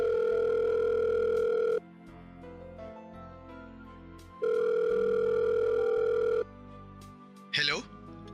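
Telephone ringback tone heard through the earpiece, two long steady buzzing bursts separated by a quiet gap with a faint background hum, then a brief click at the end.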